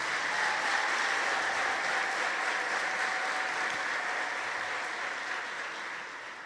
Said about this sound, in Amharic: ጭብጨባ እንደቀድሞ አልሆነም።